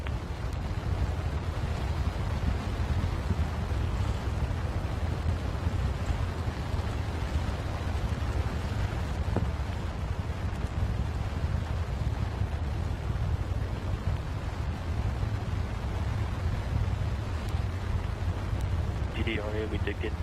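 Deep, unbroken roar of the four RS-25 engines on the SLS rocket core stage during a hot fire test, steady and powerful throughout, with radio voices talking over it.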